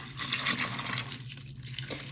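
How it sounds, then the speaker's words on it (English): Whole milk is poured from a freshly opened container into a crock pot over candies and chocolates, a soft continuous liquid splashing and gurgling that stays steady throughout. "We're just gonna open it up and then pour it in there."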